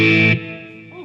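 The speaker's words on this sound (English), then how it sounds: "classic Marshall crunch" A 1996 Fender Stratocaster Ultra through a classic Marshall-style crunch tone rings out as one loud distorted chord that decays quickly and then sustains more quietly, with no talk.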